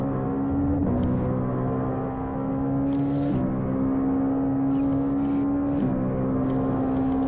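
Legends race cars in the iRacing video game, a steady engine drone with a tonal whine that drops at each gear shift, a continuous in-car sound with no talking.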